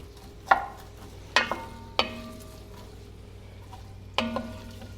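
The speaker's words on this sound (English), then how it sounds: "Once the oil starts heating up a little bit, putting in my onions and celery" Onions and celery drop into warming olive oil in a soup pot, a low quiet sizzle broken by four sharp clatters of utensil or ingredients hitting the pan.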